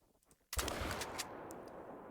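A single hunting rifle shot in theHunter: Call of the Wild during a mallard hunt, a sharp loud crack that cuts in suddenly and rolls out into a sustained echo across open terrain.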